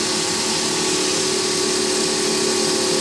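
A wood lathe spins at roughly 9,000 rpm while a pen blank coated in thin CA finish is wet sanded with micro mesh pads, giving a loud, steady motor whine with a constant hum and no pauses.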